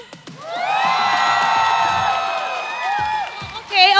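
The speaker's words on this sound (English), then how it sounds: "Pwede bang mag-cheer ang mga Falcons APBREN?" At an MPL Philippines Season 13 grand finals esports event, a large arena audience erupts into loud sustained cheering and screaming for Falcons AP.Bren, holding for several seconds before a voice comes in at the end.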